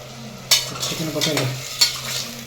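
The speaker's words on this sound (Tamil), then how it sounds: "இஞ்சி பூண்டு பேஸ்ட் போட்டாச்சு, தக்காளி வந்து போட்டாச்சு, வதக்கிட்டு இருக்காங்க" Tomatoes and ginger garlic paste being sautéed in a pan for biryani, close sizzling with spatula stirring scrapes and a couple of sharp clanks, no talk.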